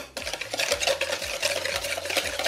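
A spoon stirs a fresh cheese mixture in a bowl, close rhythmic scraping and soft sloshing strokes repeated several times, with no voices.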